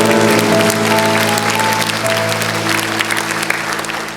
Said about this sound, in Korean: 우리 다시 한번 영광의 박수를 올려드립니다